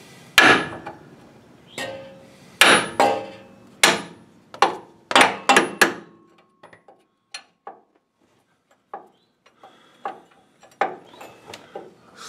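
Hammer blows driving a front suspension bolt through a piece of brass on a 1965-1970 Impala/Caprice, a dozen sharp metallic strikes in uneven bursts, loud and close at first, then lighter spaced taps.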